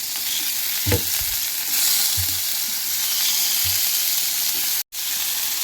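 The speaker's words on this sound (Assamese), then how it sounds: "এতিয়া এইখিনি ফ্ৰাই কৰি লৈছোঁ, পিঁয়াজখিনি।" Onions frying in a pan for paneer curry, a steady close sizzle with several soft scraping stirs and one brief sharp dropout near the end.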